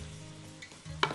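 Vegetables and garlic are stirred in a hot frying pan, a quiet sizzle broken by a couple of sharp scraping clinks of the utensil against the pan, the last one loudest.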